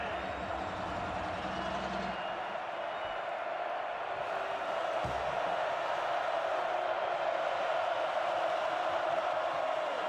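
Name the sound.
football crowd cheering inside Nippert Stadium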